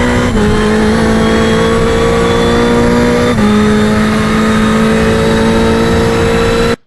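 A Ferrari race car engine holds a steady, loud, high-pitched drone on the VIR track in a racing game, with a brief dip in pitch partway through as it rides over bumps, alone and close.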